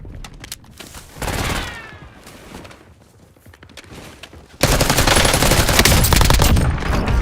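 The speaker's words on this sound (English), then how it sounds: "Somebody shooting at me" Video game gunfire crackles in bursts, first a short volley, then a quieter lull before a loud, dense fusillade of rapid shots close up.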